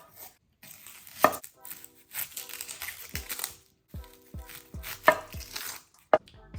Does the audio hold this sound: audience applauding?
no